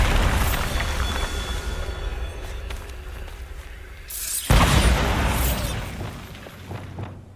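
Hogwarts Legacy Bombarda blasting spell: a sustained rumbling roar fades down, then a sharp, loud burst hits midway and rolls on with crackling debris before tapering off.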